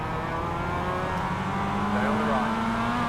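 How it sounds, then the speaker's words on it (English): Mazda MX-5 on a racetrack with another race car passing on the left, a loud steady in-car engine drone with a rising pitch as it accelerates. "Car on your left."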